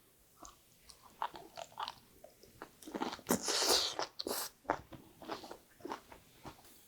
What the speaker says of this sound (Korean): 그냥 각종 채소들을 하나씩 이렇게 또 소스를 찍어서 먹어도 아주 맛있습니다.